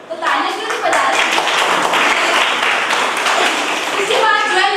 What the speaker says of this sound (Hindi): सबको जाना है ना, तो तालियां क्यों नहीं बजा रहे?